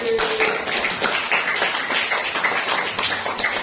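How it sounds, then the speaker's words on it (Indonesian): Children in a classroom clapping their hands together on cue, a fast, busy patter of claps that goes on without a break and stays fairly close. "Tepuk tangan sekali lagi"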